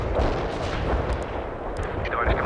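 Artillery barrage in the Cold War strategy game World in Conflict, a dense continuous rumble of booming impacts and blasts with crackling bursts, loud and sustained throughout, with faint voices underneath.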